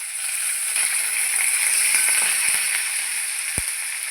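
Onion, ginger, garlic, green chilli and curry leaves frying in hot oil for homemade ivy gourd pickle, a steady bright sizzle with a few soft clicks of stirring, no voices.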